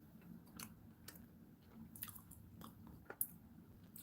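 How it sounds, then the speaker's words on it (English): Soft close-up chewing and crunching of a chocolate fruit, nut and cookie dough bar, irregular quiet bites and mastication with no talk. "Jason, eat the chocolate."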